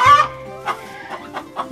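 Chickens in a mobile chicken tractor coop cluck in short, repeated bursts, with several hens calling near and clearly and no talk over them.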